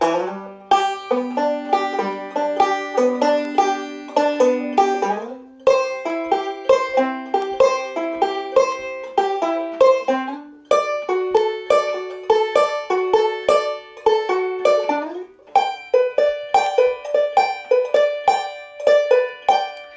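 Five-string banjo picking a backup progression up the neck in Scruggs style, using a fourth-string slide and accenting the first string; steady bright rolls in clear phrases, close and solo, with no talking.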